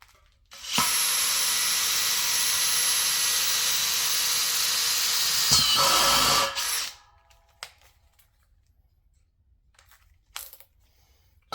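A power drill whines steadily for several seconds as it bores through material, then spins down and stops, followed by a few faint clicks.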